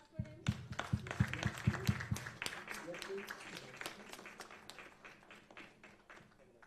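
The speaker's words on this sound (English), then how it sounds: "A huge round of applause for him." A round of applause at a live news event, heard as quick clapping that starts sharp and strong with a few low thumps early on, then settles into a thinner, fading patter.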